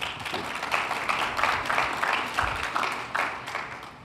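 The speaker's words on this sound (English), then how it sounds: "So let's give him a round of applause." Audience applause at a business talk on winning corporate contracts, a rolling burst of moderately loud clapping that swells and eases slightly, with no voices over it.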